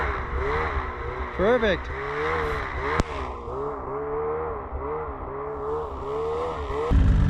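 A beginner rider's motorcycle at a riding clinic, its engine revving and wavering under light throttle with a brief rising surge and a sharp click midway, while an instructor talks briefly nearby.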